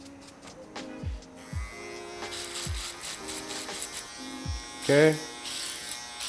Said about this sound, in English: we're now going to go in with the foil shaver and really get rid of all the hair for this skin fade